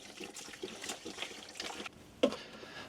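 Water from a bottle trickles and splashes into a pot of rice and sweet potatoes at a winter campsite, a soft, uneven pour lasting a couple of seconds that ends in a brief louder splash.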